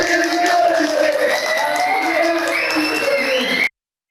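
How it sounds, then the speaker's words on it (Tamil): Tamil Nadu party volunteers clapping and cheering after an announcement, a steady wash of crowd applause and shouts that cuts off abruptly near the end. "சிவாவின் அறிவிப்பை கேட்டதும் தமிழக வெற்றிக் கழக தொண்டர்கள் கைதட்டி ஆரவாரம் செய்தனர்."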